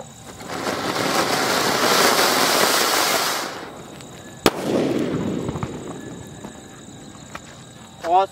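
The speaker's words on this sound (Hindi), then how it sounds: "ऑसम भाई काफी बढ़िया जली है गंगा जमुना, पहले अनार निकली फिर फटी" A Ratna Ganga Jamuna firecracker at Diwali first sprays like a fountain with a loud, steady hissing roar for about three seconds, then bursts with one sharp bang followed by crackling debris and crickets chirping in the night background.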